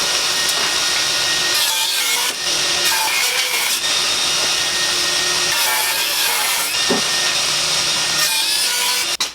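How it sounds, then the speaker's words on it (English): Table saw cutting wood, a loud continuous whining drone of the blade with several bursts of harsher cutting noise as the stock feeds through, ending abruptly. "I just set my table saw to fit the template."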